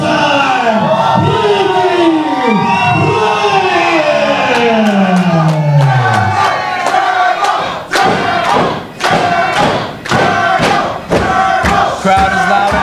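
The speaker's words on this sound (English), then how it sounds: "Crowd is loud and hot for our boy Turbo Ricky Rayez" A wrestling crowd roars for the champion Turbo Ricky Rayez at a PWL event, loud continuous cheering and yelling under a booming, pitch-sweeping announcer voice, later broken by rhythmic stomps or claps.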